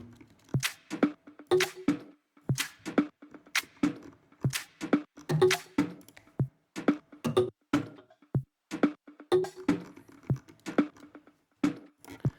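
Layered percussion loop from an organic house groove, with several dry hand-percussion and click layers trading short hits in a steady call-and-response rhythm, alone and fairly close.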